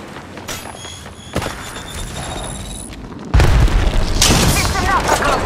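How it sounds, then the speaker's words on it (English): Gunfire and explosions in the battle royale game Apex Legends: booming shots and bursts that swell sharply into a louder, sustained barrage partway through, with a voice speaking over the fighting. "Taking fire!"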